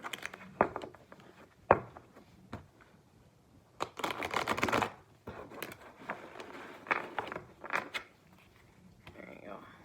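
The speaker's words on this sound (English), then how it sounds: "One more big shuffle." Tarot cards shuffled in a deck during a reading, giving bursts of dry riffling patter and scattered snaps, with a longer shuffle run mid-way, close and fairly quiet.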